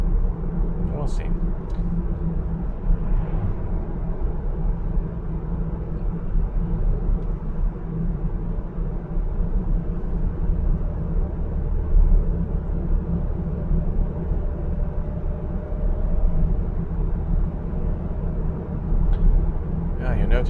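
A VW Multivan's electric motor pulls uphill on the Glaubenbielen Pass in the Alps, a steady low drone and road rumble inside the cabin that stays even throughout, with a voice talking over it.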